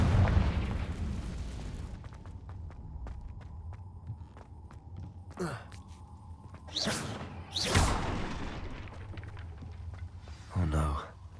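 Confringo explosion spells in the video game Hogwarts Legacy, several sharp whooshing blasts with booming tails over a low game-music hum, moderately loud among quieter clicks and rustles.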